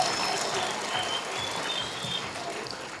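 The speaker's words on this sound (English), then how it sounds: "can you just give yourself a round of applause, please?" Students at a town hall event giving themselves a round of applause, a continuous broad wash of many hands clapping, moderately loud and unbroken for the whole stretch.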